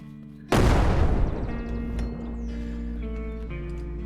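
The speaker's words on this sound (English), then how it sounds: "let's throw grenade in there and then run away" A grenade in the zombie shooter game Surroundead goes off in a single loud, deep boom that rumbles and fades slowly over several seconds, with faint game tones lingering afterward.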